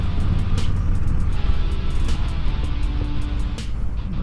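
Road traffic rolls past a 2020 Harley-Davidson Low Rider S motorcycle on the move, a steady loud engine and wind rumble with brief passing-vehicle swells throughout.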